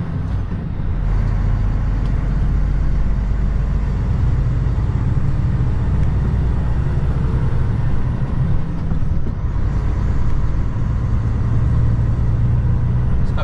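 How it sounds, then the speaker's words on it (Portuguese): A truck engine hums low and steady while the truck drives along a highway, with a constant rumble and road noise from inside the cab and no talking. "Esse caminhão é silencioso, quase nem faz barulho."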